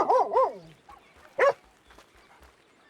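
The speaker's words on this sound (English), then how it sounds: "Just a random dog walking toward a snake." Dog in a video game roleplay, barking twice in quick succession then once more, fairly close, with softer game sounds and faint talk between.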